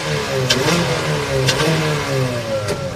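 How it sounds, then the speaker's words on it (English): Ford Fiesta race car at Cadwell Park during a junior championship qualifying session, its engine revved repeatedly in short bursts over a rough idle, loud and close. "Archie Handy giving it a few beams with the car there, look."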